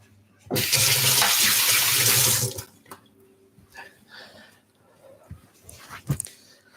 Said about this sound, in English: Let me just wash my hands a second.